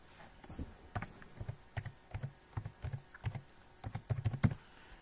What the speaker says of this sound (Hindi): तो यहाँ पे फ़ोन नंबर मैं लिख देता हूँ।